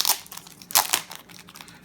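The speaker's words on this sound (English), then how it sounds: "take the plastic bag off" A plastic bag crinkles and rustles as it is pulled off a passport-size Narita Airport traveler's notebook, with sharp close crinkling bursts near the start and middle tapering to softer rustles.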